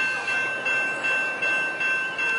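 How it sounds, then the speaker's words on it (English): A northbound Amtrak Surfliner passenger train passes at Del Mar, its cars rumbling by close with a rhythmic clatter of wheels over rail joints and a steady high tonal squeal. "we got a northbound Surfliner about to fly by here at Del Mar"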